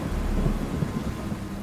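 Rain and rumbling thunder as a cartoon sound effect in a children's animated story, a steady low roll of thunder over continuous rainfall, filling the whole short stretch with no voices.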